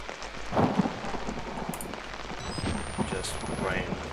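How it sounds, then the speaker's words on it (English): Steady rain in the video game Outlast hisses throughout at moderate level, with a few louder splashes and low rumbles mixed in. "Just rain."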